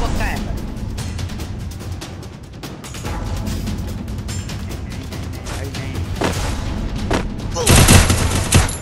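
Video game gunfire in rapid bursts and volleys, with a loud close burst near the end, playing under someone talking.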